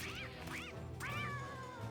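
A little cat in a video game meows three times, short rising-and-falling cries with the last one longer, heard close and clear over a low, steady game background.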